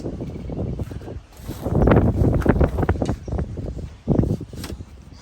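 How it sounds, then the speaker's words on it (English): Gusty wind buffets the microphone outdoors on a farm, rising in loud rumbling surges that swell and fade over several seconds, with no voices. "It's a very windy day today, so you guys are probably gonna have some wind noise while you're watching this video."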